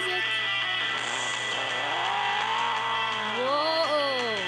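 A car engine with a retro boost pack revs steadily in a racing video game, its pitch sweeping up and down as it accelerates, close and continuous with a constant hum underneath.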